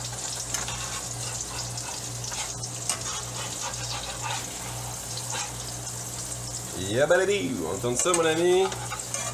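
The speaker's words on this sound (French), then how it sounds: "C'est la première fois que je jette de la bière dans la poêle avec les œufs." Eggs fry with beer in a pan, a steady crackling sizzle throughout with stirring, while someone speaks over the final seconds.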